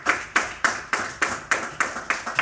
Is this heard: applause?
yes